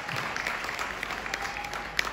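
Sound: applause for leaders

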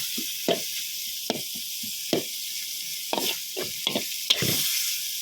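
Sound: stir-frying cooked jaew bong chili paste with minced pork

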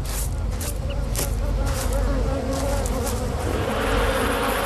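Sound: bees swarming a hive attacked by honey badger

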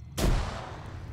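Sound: grenade explosion in a video game

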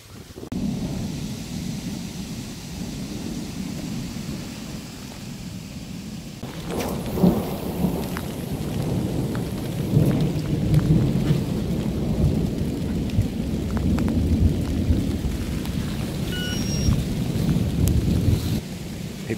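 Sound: thunder and rain during a thunderstorm

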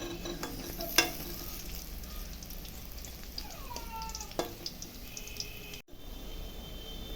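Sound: fritters for pointed gourd dhoka frying in pan

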